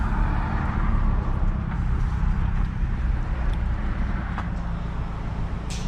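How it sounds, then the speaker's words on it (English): A vehicle's engine rumbles steadily and close as it pulls up to a Mighty Mule gate keypad, a continuous low idle-like drone with faint outdoor background and no talk. "Go ahead and pull up with the vehicle."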